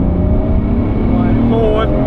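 A Tommy Kaira R-Z 2.7-litre Nissan Skyline R34 GT-R V-Spec II with an RB26 engine accelerates hard in second gear from around 3,000 RPM, its loud, close engine note climbing steadily in pitch over two seconds.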